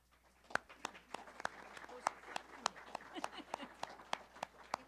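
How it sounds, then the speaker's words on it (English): Scattered, sparse hand claps from a small forum audience welcoming a moderator, each clap sharp and distinct, roughly a dozen spread over a few seconds in a quiet room, with faint murmuring behind them. "It was okay to clap for her."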